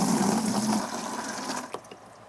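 Water rushing from a hose connector on an Aquor V1+ house hydrant, a steady loud hiss that eases off, with a small clunk near the end.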